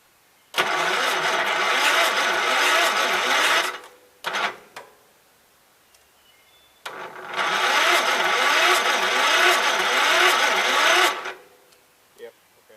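A 1984 Gravely 5665 tractor engine cranks and catches, running with a rough, rattling mid-pitched clatter for about three seconds, stumbling, then restarting for another four-second run before cutting out; brief quiet moments separate the bursts.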